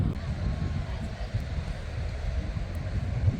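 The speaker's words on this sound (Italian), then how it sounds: "C'è tanto vento però," Strong wind buffeting a microphone near lakes in France, a low, steady rumbling roar with gusty swells, fairly faint overall.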